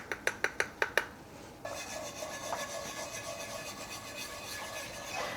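Milk being stirred into gravy in a pan: a few sharp rhythmic taps at first, then a continuous soft scraping and swishing of a utensil against the pan, quiet and close, with no talking.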